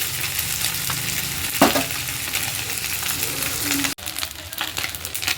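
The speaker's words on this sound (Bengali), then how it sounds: "এইভাবে আস্তে আস্তে মাছগুলোকে খুব ভালোভাবে ভেজে নেব।" Fish frying slowly in oil, giving a steady close sizzle with a few scraping stirs and a brief clatter partway through, then a short dip before the crackle resumes, with no voices.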